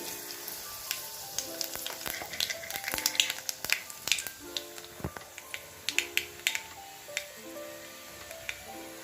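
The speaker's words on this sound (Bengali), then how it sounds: "তেলটা গরম হয়ে গেছে, আমি ফোড়নটা দিয়ে দিচ্ছি" Whole spices tempering in hot oil in a wok for a red lentil dal, crackling with sharp, irregular pops and spits over a constant close sizzle.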